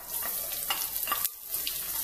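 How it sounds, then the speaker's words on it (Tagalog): Garlic sautéing in a pan for crispy noodles (pansit malutong) gives a soft, steady sizzle with a few light stirring scrapes, short and fairly quiet, with no voices. "dyan na rin ho tayo magigisa. Kumain po natin ito sa bawang."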